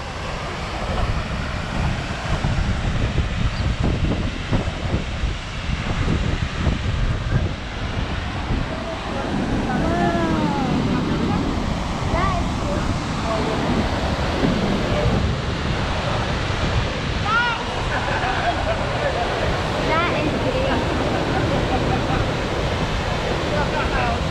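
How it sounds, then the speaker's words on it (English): A young waterfall in Iceland's Golden Circle pours with a constant broadband rush, mixed with wind and steady roaring water, while several people talk over it through much of the stretch. "So that's why this one, you can tell it's very young waterfall."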